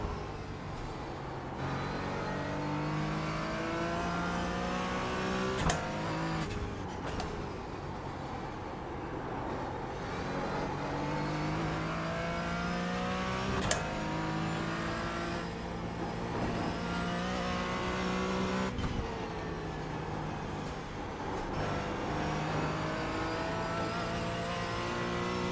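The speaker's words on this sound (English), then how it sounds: "I know, the BMW sounds horrible." A BMW race car engine on the Nürburgring, loud and sustained, its revs climbing and dropping with gear changes and a few sharp shift cracks along the way.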